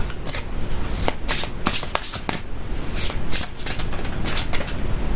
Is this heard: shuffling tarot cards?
yes